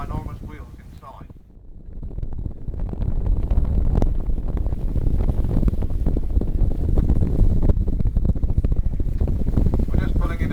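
A Dartmouth car ferry twice the size of the original, carrying 32 cars and propelled by two large internal wheels, rumbles steadily through the water at about 6.5 knots, with heavy wind buffeting the microphone throughout.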